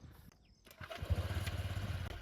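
Honda Click 125i scooter engine running at low RPM, a soft start followed by a steady, rapid low putter, fairly quiet and close, with no voices.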